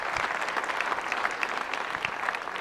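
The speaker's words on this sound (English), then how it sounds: "If you're 50 or older, clap for me now." A lecture audience claps on request, a moderate, somewhat sparse patter of many hands with individual claps standing out, heard at middle distance and steady across the clip.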